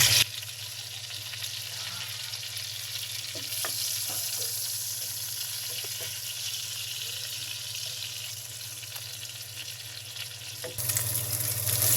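Onions frying in oil in a pan for a prawn curry, a soft, continuous sizzle with a low hum underneath and a few light clinks, ending in a brief louder burst.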